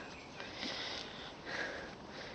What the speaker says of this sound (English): sniffing around